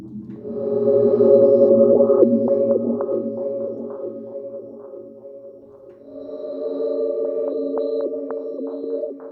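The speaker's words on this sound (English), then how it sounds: "I never thought that Rhodes would sound like that, but that's a really cool sound." Warm Rhodes electric piano chords through a Zoom MS-70CDR effects pedal swell with a long, shimmering, effected texture, sustained and moderately loud, briefly dipping before a second phrase rings out.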